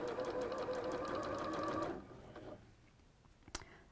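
A sewing machine runs steadily for about two seconds, stitching a border strip to a hexagon with a quarter-inch seam, then stops, leaving faint room tone and one short click near the end.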